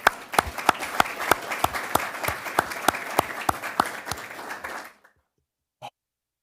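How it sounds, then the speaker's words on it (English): Honorees at a city council meeting receive sparse applause: evenly spaced claps ring out in a steady rhythm for about five seconds, then stop, followed by a single late clap. "Let's give them a round of applause."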